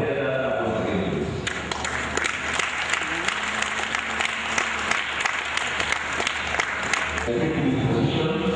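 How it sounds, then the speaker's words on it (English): Sustained applause from a large audience at a Nigerian ethnic nationalities summit, dense and steady clapping that fills the hall, with a brief voice near the end. "I want to hear that applause again"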